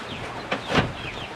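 A few short clucks from chickens, one brief call then a louder one, at moderate distance over a quiet background.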